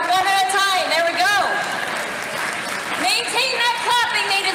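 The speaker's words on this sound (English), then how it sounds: "Maintain that clapping, they deserve it for all their hard work." An audience at a gaming expo claps steadily for cosplayers walking up one at a time, the applause dense and sustained beneath an announcer's amplified voice and some music-like tones.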